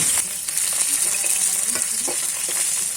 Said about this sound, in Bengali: প্রথম ব্যাচের মাছগুলো দিয়ে দিয়েছি এক পিট হয়ে গেছে এবার উল্টে দিচ্ছি